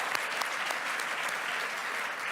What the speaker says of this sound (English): Let's a round of applause as we welcome these gentlemen to the stage.